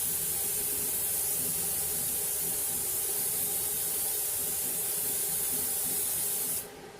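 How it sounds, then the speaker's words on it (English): Non-stick cooking spray hisses steadily onto a cookie sheet for oatmeal cookies, one continuous close, loud aerosol burst lasting several seconds before cutting off abruptly near the end. "you're going to have to spray it, the cookie sheet down with the non-stick cooking spray"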